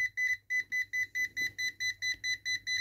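Klein Tools NCVT6 non-contact voltage tester beeping near a live cable, a rapid series of about a dozen sharp high-pitched electronic beeps in a steady pulse, close and clear with no voices.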